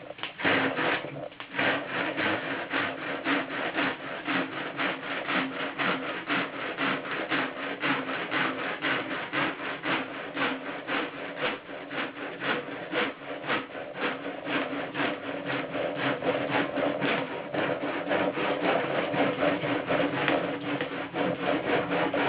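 Steady hand sawing or rasping through material, cut free after a tape guide was removed, for a wombat-friendly water station; a continuous rapid rhythm of scraping strokes, close and fairly loud, with no talk.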